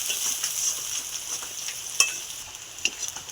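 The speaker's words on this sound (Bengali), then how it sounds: "ভেজে নেবো পেঁয়াজটা" Chopped onions fry in oil with cloves, cardamom and cinnamon in a pan, a steady soft sizzle broken by a few sharp scraping taps as they are stirred.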